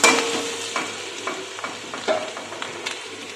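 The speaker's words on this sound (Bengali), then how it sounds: "রসুনটা দিয়ে এখন একটু নাড়াচাড়া করতে হবে" Crushed garlic, dried red chili and black cumin fry in oil while being stirred, a steady close sizzle broken by regular scraping strokes of the spoon against the pan.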